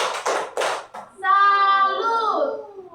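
A fourth-grade class does the tepuk salut clap chant: a few quick, close hand claps, then a sustained sung chanting voice carries the rest of the rhythm.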